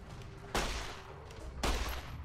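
Gunfire in the Fallout: New Vegas video game arrives as two sharp, loud bursts about a second apart, each decaying quickly into a low background hum.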